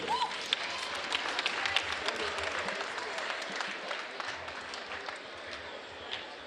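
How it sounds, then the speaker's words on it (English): Spectators at an amateur boxing event at a Fairfax recreation venue give a steady round of applause, a dense, even patter of many hands heard from some distance. "Okay, a round of applause for these outstanding boxers coming in here."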